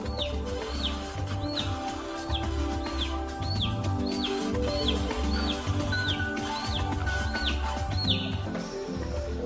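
A chick gives a run of short, rising-then-falling chirps, about a dozen in a steady rhythm, heard over a dense, continuous musical background.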